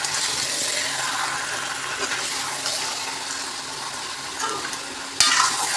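Meat being stirred as it fries in a pan, a constant close hiss and sizzle with scraping of the spoon through the pieces and a sharp clatter near the end.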